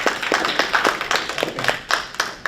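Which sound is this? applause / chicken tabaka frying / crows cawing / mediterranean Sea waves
applause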